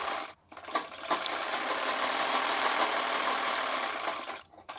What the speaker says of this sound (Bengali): সেইখানে আমি সেলাই করে নিচ্ছি